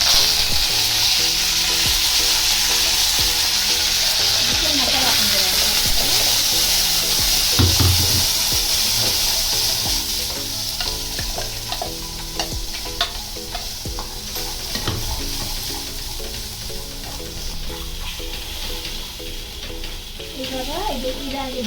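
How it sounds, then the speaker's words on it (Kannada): Mustard seeds and curry leaves fry in hot oil for a kadale saaru tempering, giving a loud, unbroken sizzle and crackle with the scrape and knock of stirring throughout. "ಇವಾಗ ಸಾಸಿವೆ ಹಾಕಿ ಕರಿಬೇವು ಹಾಕ್ತಿದ್ದೀನಿ"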